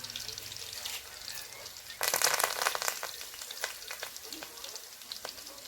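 Green chilies, curry leaves and onions frying in hot oil in a home kitchen, a steady close sizzle that surges louder partway through and then keeps crackling.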